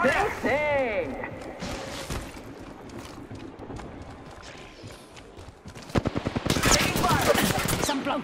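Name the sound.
gunfire in a video game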